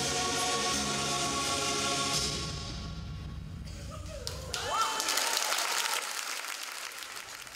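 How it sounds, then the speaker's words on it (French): A large choir's sustained final chord rings out and fades, then the audience breaks into applause that builds and continues to the end. "Applaudissements, Franck Castellano"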